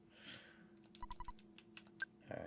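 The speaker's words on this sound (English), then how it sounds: "You can hear me clicking those buttons" Computer keyboard keys clicked during play of the game Earthbound, a quick cluster of close, crisp taps followed by a few scattered single clicks, quiet and with no talk over them.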